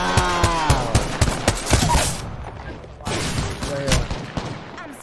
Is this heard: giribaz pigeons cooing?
no